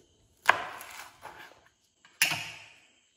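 A knife slits five green chillies lengthwise against a cutting board, giving two sharp, close woody chops about two seconds apart, each followed by a brief scraping tail.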